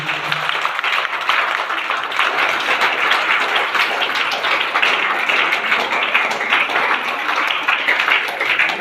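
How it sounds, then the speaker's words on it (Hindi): Loud, sustained applause from an audience at a DXN motivational gathering, a dense steady patter of many hands clapping that holds without a break for nearly nine seconds, with a faint voice at the very start. "सिस्टम के लिए जोरदार तालियां होनी चाहिए"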